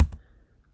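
A computer keyboard gives two quick, soft clicks close together, followed by quiet.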